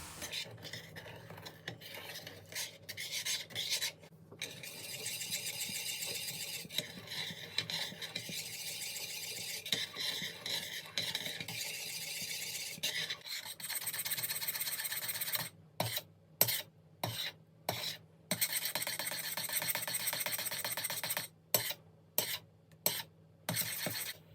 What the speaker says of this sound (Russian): Затем будем готовить на медленном огне, постоянно помешивая до кипения.